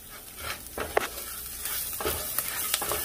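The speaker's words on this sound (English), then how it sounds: "You want to continue to mix because you do not want to burn your garlic" Garlic stirred into rice in a hot pan for Mexican rice, making a steady sizzle with repeated scraping strokes from a spoon. The stirring comes in rough rhythmic bursts and nobody talks.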